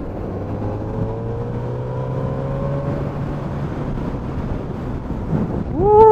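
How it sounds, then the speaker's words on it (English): Steady wind roar buffeting the rider on a 2019 Suzuki GSX-S1000F motorcycle on an open road near Spelga, with a droning engine tone underneath and a rising whine at the end, loud and continuous. "Ooh, it's windy."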